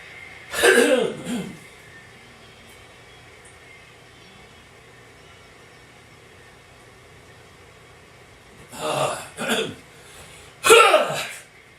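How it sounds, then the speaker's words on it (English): A man coughs and clears his throat in two separate bouts, one brief fit at the start and another cluster of harsh coughs near the end, with quiet room tone in between. "I'm going to have some water and try to clear my throat a little"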